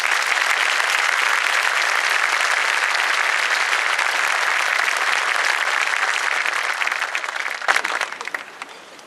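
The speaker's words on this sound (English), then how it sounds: "Please honor these students with applause." A large crowd applauds graduating students at the 2014 New Richmond High School graduation ceremony, a loud, continuous wash of clapping that holds steady before thinning out near the end.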